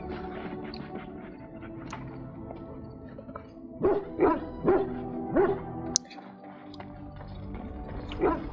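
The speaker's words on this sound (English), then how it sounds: "Yeah, good dog, good dog." A dog in the video game Dragon Age: Origins barks in a quick run of four or five sharp woofs mid-clip, with a couple of softer yips before and after over a quiet game backdrop.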